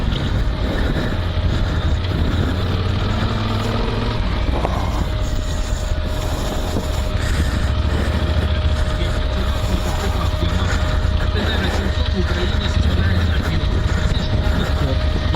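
A Yamaha Tenere 700 or Super Tenere 1200 motorcycle is being ridden. A steady engine drone blends with heavy wind rush past the microphone throughout.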